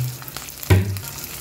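Green chillies and asafoetida hit hot oil in a pan with a sudden close sizzle burst that quickly settles into a fainter crackle.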